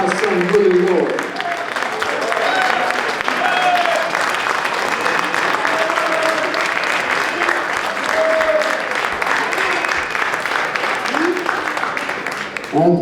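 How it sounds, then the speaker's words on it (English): A crowd gives a big round of applause at a civil rights restoration event, loud continuous clapping that carries on for over ten seconds, with a voice speaking briefly at the start. "I want you to give a big round of applause to my son, Willie Lloyd"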